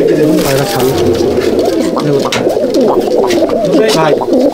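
Pigeons at a home loft in Halisahar coo in a thick, overlapping chorus, close and loud, with a faint voice now and then beneath the birds.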